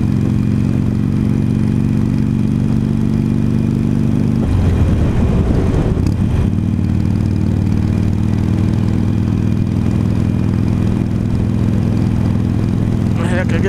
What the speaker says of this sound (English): Friday night traffic, small town Ohio.